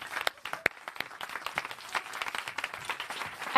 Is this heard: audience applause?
yes